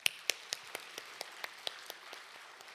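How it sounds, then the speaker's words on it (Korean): A church congregation claps for its students during a service, faint scattered hand claps in a slow, steady rhythm of about a dozen separate strikes. "우리 학생들 자녀들 미래의 기둥들 박수 한번 쳐주세요"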